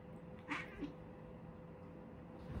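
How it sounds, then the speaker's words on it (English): Two cats wrestle and fight indoors, faint scuffling with a couple of short yowls close together early on, then quiet rustling. "Oh, is kitty combat over?"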